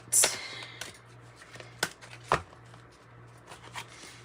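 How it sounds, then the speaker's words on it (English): Tarot cards being shuffled by hand, a few sharp riffling snaps and soft shuffles spaced irregularly, close by, over a low steady hum. "These are a little hard to shuffle sometimes"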